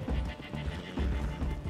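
Horse neighing in the Western game Red Dead Redemption 2, a loud, close whinny with rough repeated pulses over a busy background of game ambience, and nobody talking.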